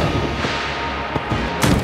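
The Gungeon Ant gun in Enter the Gungeon shoots fire, producing a dense, continuous roaring whoosh with a few sharp bursts and crackles layered on top, loud and close.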